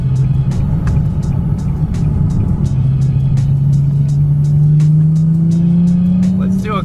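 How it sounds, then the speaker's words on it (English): A modified car's louder exhaust drones steadily as the engine revs, its pitch climbing slowly toward the end, loud and close, with a brief squeal-like rise at the finish. "feel like my exhaust system got a little louder too."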